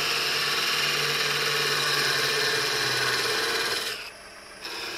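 A skew chisel takes a cut on wood spinning on a lathe while a wine bottle shape is turned, giving a steady, loud, raspy shearing noise over the lathe's hum that eases off briefly near the end.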